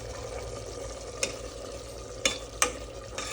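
Tomatoes frying in oil in a pan for tomato rice, a steady low sizzle with a few sharp stirring clatters of a spoon against the pan, no talking.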